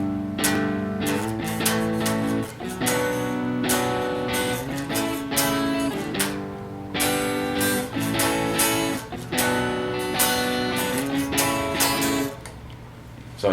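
Strummed guitar chords ring out in a steady rhythm, bright and close, with brief pauses between strums and no voices.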